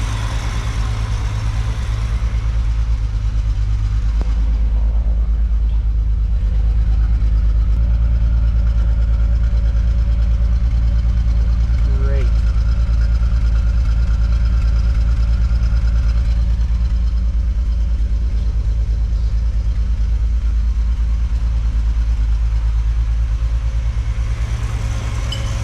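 A 1968 Ford Falcon with a freshly cleaned cooling system and a cheap homemade exhaust idles steadily and smoothly, a loud, close, even low rumble holding for the whole stretch with no talking.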